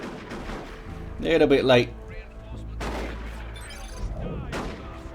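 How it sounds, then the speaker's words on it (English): Shotgun fire in the real-time strategy game Dawn of War 2 during a 3v3 match: a short, dense burst of blasts and impacts in the middle of the clip amid battle noise, with a commentator talking throughout. "so those shotgun fires"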